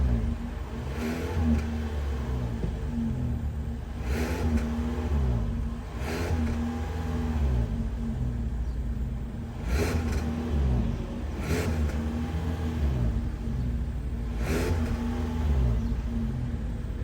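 A 2023 Kia Soul GT Line with a 2-liter naturally aspirated inline four and twin center exhaust pipes idles steadily, then revs in several short, repeated blips heard up close from the exhaust.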